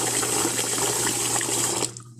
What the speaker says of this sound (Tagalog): Hugasan po natin ang ating rice.